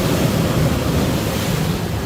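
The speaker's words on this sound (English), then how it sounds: "That was a big wave." Ocean surf crashes loudly against rocks on the coast at Ballito, a dense, continuous roar of churning water and wind rush filling the whole moment, close to the microphone with no voices.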